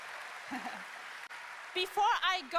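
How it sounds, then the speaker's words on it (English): Crowd applause at the Gamescom 2023 Opening Night Live show, a steady wash of clapping for a couple of seconds before voices take over. "Applause."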